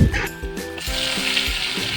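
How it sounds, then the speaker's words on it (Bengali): Steady crackling sizzle of onions frying in hot oil, with a few clinks of a utensil against the pan. "পেঁয়াজটাকে হালকা লাল লাল করে ভেজে নিতে হবে"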